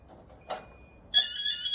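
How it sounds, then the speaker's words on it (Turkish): After a short clatter and a thin tone, a shrill electronic fire alarm siren, sounding during an aerosol fire suppression system test, starts abruptly and keeps sounding steadily, with no one talking. "Sireni takıyoruz. Alarm verdiriyoruz."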